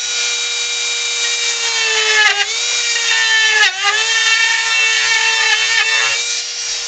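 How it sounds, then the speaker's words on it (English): A power drill bores out a hole in a wooden ventriloquist dummy figure. It gives a loud, continuous, close whine that dips briefly twice as the bit bites into the wood. "I want to bore this out a little bit."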